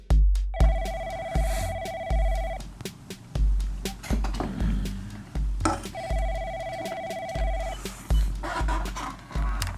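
A telephone rings in two long electronic bursts several seconds apart, heard over a rhythmic low thumping in the background.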